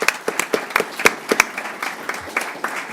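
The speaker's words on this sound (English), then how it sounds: "Let's give them a round of applause." Applause in a school board meeting boardroom, sparse and uneven, with distinct individual hand claps from a small group rather than a dense crowd, lasting only a few seconds.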